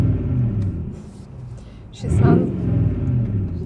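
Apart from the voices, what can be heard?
Lexus GX470 straight pipe exhaust rumble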